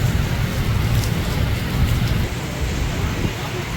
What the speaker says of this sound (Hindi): बारिश आप देख सकते हैं कितनी तेज़ बारिश है